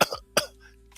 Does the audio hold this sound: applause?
no